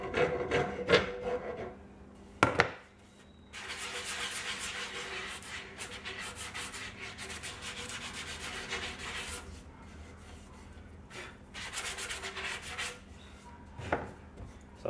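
Edges of timber for an outdoor seat are rounded off with long bursts of dry rubbing and rasping, close and moderately loud, separated by short pauses and a couple of sharp knocks.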